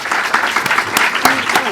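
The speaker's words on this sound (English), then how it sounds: "Can I have a massive round of applause for our panel," An audience applauds a film panel with brisk, dense clapping close by, loud and continuous for the full stretch, with a few sharper individual claps standing out.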